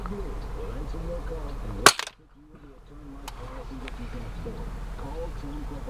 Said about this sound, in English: I think I'm shooting high every time.